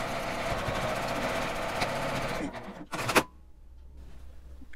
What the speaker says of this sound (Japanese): 返し口を8センチ開けて1センチの縫い代で周りを縫います。